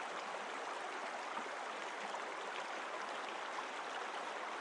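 Faint river water bubbles and churns in a continuous, even rush, soft and somewhat distant, with no voices.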